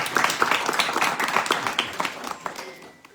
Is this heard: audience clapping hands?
yes